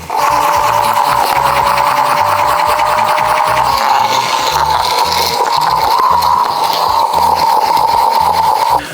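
A loud, continuous whirring rasp from a fast-spinning gyroscopic wrist exerciser, with a steady hum and a pulsing grind throughout.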